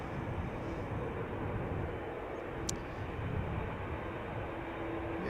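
A Boeing 787 Dreamliner jet departs Amsterdam Schiphol Airport bound for Montreal, heard as a broad, steady engine roar at moderate distance with no talk over it.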